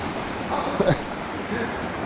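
Water runs through a mossy place as a steady outdoor rush mixed with wind, with a brief faint murmur of a voice partway through.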